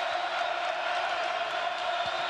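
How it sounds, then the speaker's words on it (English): A big arena crowd cheers at a 2008 Kansas State versus Kansas basketball game, a dense and steady roar at a distance with a commentator speaking over it. "And this crowd comes to life again."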